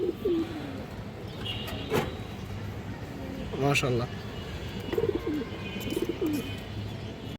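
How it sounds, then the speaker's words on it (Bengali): Indian highflyer pigeons, including a female, cooing in repeated soft throaty phrases close by, with faint chirps around them and someone talking over them. "খুবই সুন্দর একটা সবজি মাদি কবুতর"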